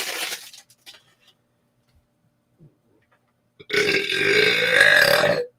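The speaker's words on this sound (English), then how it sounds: "And burp real quick." A single long, loud burp rumbles out close to the microphone for nearly two seconds, following quiet moments with a few small clicks and taps.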